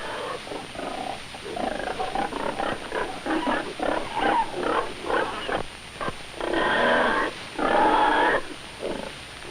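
Several purebred hogs grunt and snort close by in rhythmic bursts, growing louder and denser toward the end, with no talking over them.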